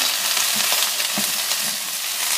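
Vegetables stir-fry in oil in a crowded pan, a loud, continuous close sizzle with soft bumps and scrapes as they are moved around.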